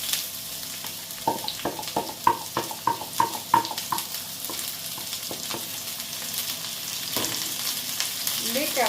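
Onions, leeks and grated carrots sizzling in a hot pan, a steady close frying hiss with a burst of rhythmic stirring clatter and scraping partway through, no speech.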